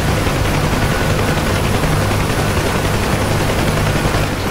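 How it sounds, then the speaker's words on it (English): A police helicopter in the DCS combat flight simulator roars loudly and steadily, its rotor thumping in a continuous throbbing rhythm that fills the whole stretch with no speech. "Police chopper."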